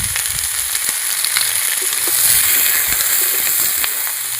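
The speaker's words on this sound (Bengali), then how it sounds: "আর এই কেটে রাখা ক্যাপসিকাম এটা ভাজা হোক" Chopped capsicum frying in a pan gives a steady, close hiss and crackle with a few light stirring clinks, and no voices are heard.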